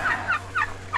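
A turkey in a barnyard gobbles in a quick series of about four rippling, throaty calls, close and clear over a low steady background hum.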